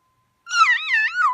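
A person imitates a cat, producing one drawn-out, wavering meow of about a second that rises and falls in pitch, clear and close against complete silence.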